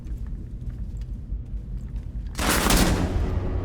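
Gunfire in the video game Rainbow Six Siege: a low rumbling backdrop gives way to a sudden loud burst of rapid automatic shots partway through, dense and close, holding to the end.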